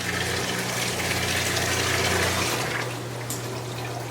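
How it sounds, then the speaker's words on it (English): An AMK Sicce Ultra 9000 utility pump steadily pours water into a filling utility sink, giving a continuous rushing splash over a low motor hum that shifts and eases slightly near the end. "it is actually pumping faster than this utility sink can drain"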